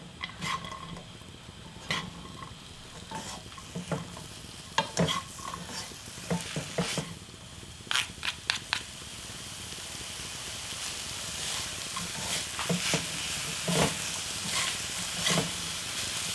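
Seasoned dried shredded squid being stirred in a pan over low heat, with repeated scraping and tossing strokes and a soft steady sizzle underneath, close and moderately loud throughout.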